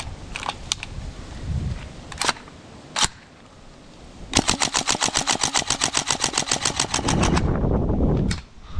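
A GHK AKM V3 gas blowback airsoft rifle fires a few single shots, then a rapid full-auto burst of sharp evenly spaced cracks, and keeps firing after the rounds run out, with a hiss of gas between bursts.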